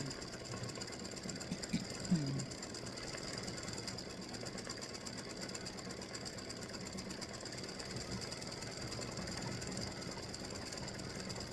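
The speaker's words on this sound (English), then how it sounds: "So this will stitch the pumpkin here, and it'll come over and stitch the other pumpkin" An embroidery sewing machine stitches a freestanding-lace pumpkin design, giving a steady, continuous mechanical whir and rapid needle ticking that runs unbroken throughout, close and even in level.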